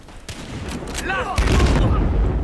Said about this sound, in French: Ouah, cette explosion!